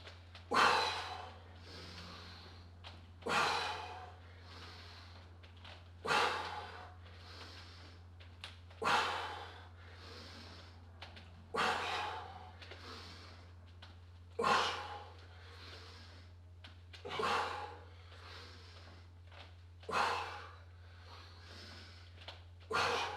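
Forceful breaths exhaled during a yoga workout, repeating in a steady rhythm about every three seconds, close and fairly loud over a low constant hum.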